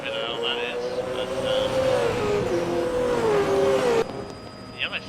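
A racing car from the Super2 series drives through the pit lane at the 2020 Sydney night round, its engine holding a steady, slightly wavering drone while a commentator talks over it.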